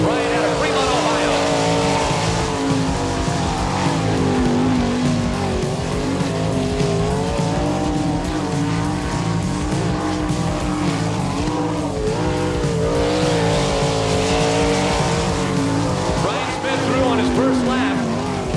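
Race car on a dirt oval at an All Star Circuit of Champions event, its engine roaring loud and continuous with wavering pitch as it laps, steady throughout with no pauses.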